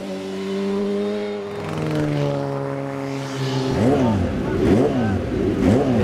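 Racing motorcycles at the Isle of Man TT road races scream past, engines climbing in pitch and then swooping down as they pass close by, one after another in quick succession, loud against the roadside.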